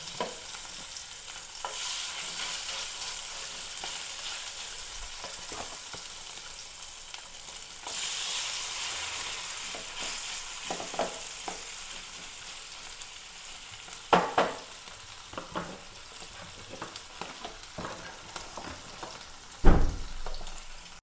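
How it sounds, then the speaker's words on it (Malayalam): Sardines (mathi), salted and marinated, sizzle steadily in a frying pan, with occasional clatters of stirring and a few sharp knocks from a utensil against the pan; no voices. "അതും കൂടി ഒന്ന് വറുത്തെടുക്കണേണ്"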